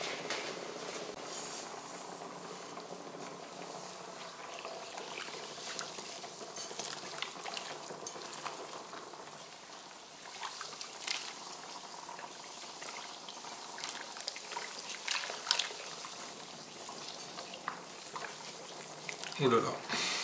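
Malt grain poured into about eight litres of water for 3 kg of malt while brewing homemade beer, giving a continuous wet hiss with scattered clinks and stirring noises, close by, with a voice talking over part of it.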